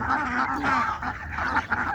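Several geese honk repeatedly in overlapping nasal calls, loud and close, forming a continuous noisy chorus for the whole moment.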